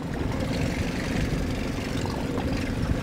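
Fishing boat engine idling on Burt Lake, a steady low rumbling drone with slight throbbing, continuous and fairly close, no talking over it.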